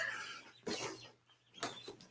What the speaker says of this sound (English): Yes, we have chicks in the studio with us.